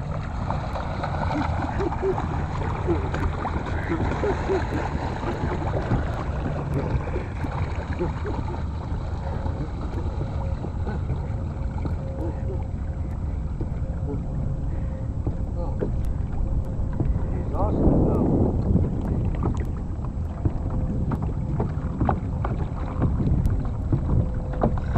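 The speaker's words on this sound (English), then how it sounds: "We're kayaking." Kayak paddling on Lake Murray in July, with water sloshing and paddle strokes mixed with gusty wind buffeting the microphone, plus a faint steady tone and a louder splash near the end.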